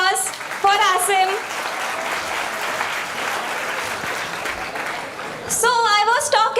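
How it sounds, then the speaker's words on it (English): A crowd applauds a performer at a college event, sustained clapping and cheering throughout, with excited voices shouting over it at the start and again near the end. "a big round of applause for Asim"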